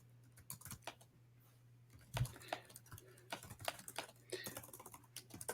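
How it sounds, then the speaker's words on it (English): Typing on a computer keyboard during web development work, with bursts of clacking keystrokes in irregular rhythm, some louder strikes, close and quiet with no talking. "I'm doing a little bit of typing here."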